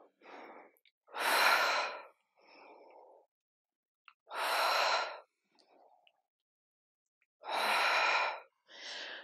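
Deep, slow breaths during a legs and glutes yoga exercise: three long, loud exhales, each followed by a softer, quieter breath, with near-silent pauses between them.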